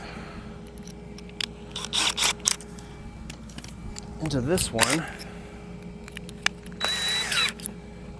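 A power drill pre-drills a pilot hole into scrap wood for a goat stand, whirring in two short bursts around speech, with lighter handling clatter and a higher whine near the end.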